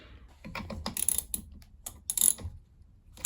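A ratchet with a 14mm socket undoes a nut on a Samsung heat pump tumble dryer, giving rapid clicking pawl bursts and short metallic ticks in uneven spurts, close up and without speech.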